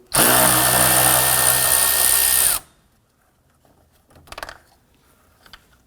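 A power tool spins out an 8mm screw from the active grille shutter unit on a 2015–2020 Ford F-150, a loud, close, high whirring burst of about two and a half seconds, followed by quiet and a few faint metallic clinks.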